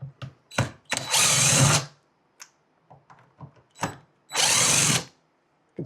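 Cordless power drill backing out corroded speaker screws on a 2025 Sea-Doo RXT-X personal watercraft, two loud sustained whirring bursts with short taps and clicks of handling in between, close up.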